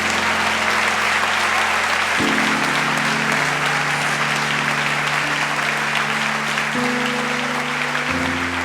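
A church congregation applauds loudly and continuously, a dense wash of clapping over a sustained organ or keyboard chord that changes pitch several times.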